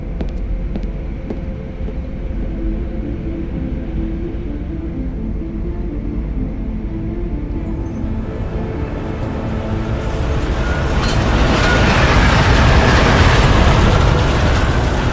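A train in the video game Deus Ex pulls into a station with a steady low rumble and mechanical clatter that swells louder toward the end, with no voices.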